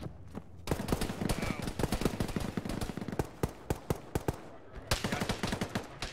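Gunfire in an Arma military shooter game: dense bursts of rapid automatic shots and scattered single cracks, loud and close, coming in clustered volleys with brief pauses between them.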